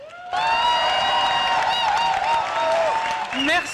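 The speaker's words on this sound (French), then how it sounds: "Merci à toi, Majdouline, on l'applaudit, merci à toi, un grand merci." An audience at a Les Écologistes political rally for the 2024 European elections breaks into loud, sustained applause and cheering, a dense wash of clapping that continues throughout, with a voice calling out over it.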